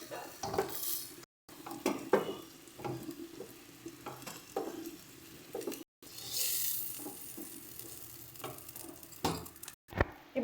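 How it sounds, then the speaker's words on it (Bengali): Prawns fry in hot oil in a pan while being stirred gently, giving soft intermittent scrapes and clinks of a utensil over a low sizzle, quiet and close, with a few brief silent gaps. "খুব হালকা হাতে একটু নাড়াচাড়া করে ভেজে তুলে নেবে।"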